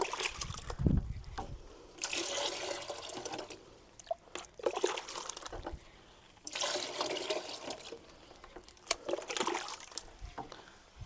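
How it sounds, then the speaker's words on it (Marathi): Water fills a broken plastic bottle in two long pouring bursts separated by pauses, a quiet close trickle and splash with occasional drips in between. "पाणी गच्च भरून घ्यायचं आहे आपल्याला."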